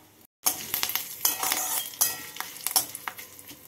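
Dry red chillies, mustard seeds, asafoetida and curry leaves spit and crackle in hot tempering oil for a dal with bottle gourd. Sharp pops and sizzles come in quick bursts, mixed with light clinks of a spoon against the pan.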